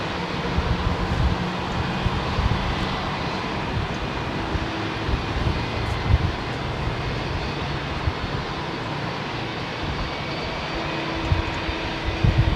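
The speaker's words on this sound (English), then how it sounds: "this Air India 777 is only used for the Delhi Heathrow route" An Air India Boeing 777 jet at London Heathrow airport gives a steady, moderate engine rumble and whine throughout, with faint tonal hums and no talking over it.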